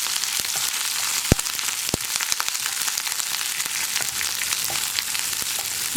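Dried red chillies and curry leaves fry in hot oil in a pan while being stirred, giving a steady close crackling sizzle with a few sharp pops.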